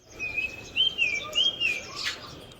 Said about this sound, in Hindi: पक्षियों की गजब की चहचहाट सुनाई दे रही है पूरे माहौल में।